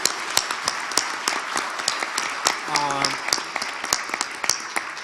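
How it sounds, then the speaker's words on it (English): Audience applause for speakers at a product-building talk, many hands clapping steadily with sharp individual claps standing out, moderately near, with a brief voice partway through. "let's make a great hand of applause to those beautiful speakers"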